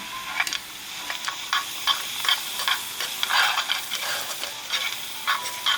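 Pig ear and onions stirred in a hot frying pan for Filipino pork sisig: a steady close sizzle with repeated scraping clicks of the spatula against the pan, heard alone.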